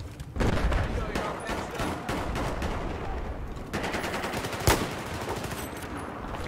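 Rapid gunfire in a Battlefield game rattles in close, loud bursts, with a heavier shot standing out near the middle and shooting continuing to the end.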